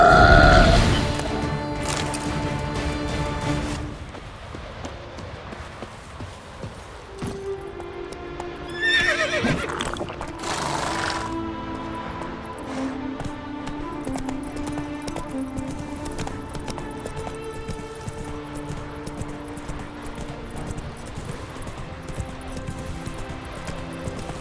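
A horse in The Witcher 3 whinnies loudly near the start, then clip-clops along with steady hoofbeats, another neigh rising midway, all over a faint game soundscape.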